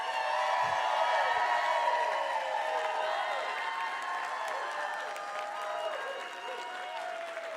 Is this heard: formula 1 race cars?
no